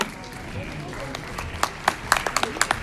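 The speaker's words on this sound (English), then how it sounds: "So please clap for Dr. Sadiq as she comes in." Faint room murmur gives way to scattered claps from a small crowd at a book launch that pick up into light, uneven applause.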